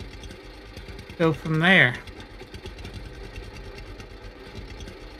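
A tractor engine idles in the Lumberjack's Dynasty video game with a steady, low mechanical chug throughout. A person talks briefly near the start over it.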